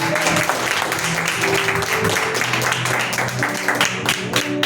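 A church congregation claps in praise during a service, a thick continuous wash of applause with some voices and tonal hum beneath, steady throughout.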